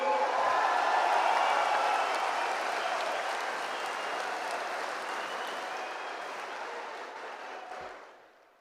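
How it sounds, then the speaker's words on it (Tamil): A packed hall of party workers applauds district secretaries and their volunteers, with loud, dense clapping that swells early, holds steadily and then dies away at the end. "13 மாவட்ட செயலாளர்களுக்கும் அவர்தம் தொண்டர் படைக்கும் ஒரு அரங்க நிறைந்த கைத்தட்டல்களை நாம் தந்தாக வேண்டும்."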